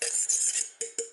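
Metal utensil clinking and scraping against a mixing bowl while stirring a nutmeg mixture, a few short close knocks and scrapes with brief pauses between strokes.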